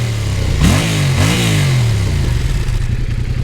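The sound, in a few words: Yamaha MT-07 2021 motorcycle engine accelerating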